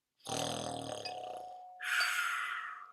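A voice imitates snoring: a long guttural rasping inhale followed by a breathy, hissing exhale, close and clear.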